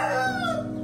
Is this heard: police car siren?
no